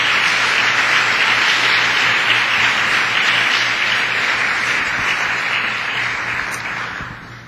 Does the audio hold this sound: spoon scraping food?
no